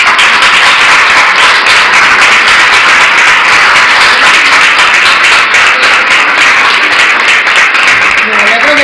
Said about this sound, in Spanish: Venga, un aplauso.